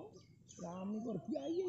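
Small rescued baby bird in a village, chirping in short high calls close by, while people talk over it in quiet surroundings.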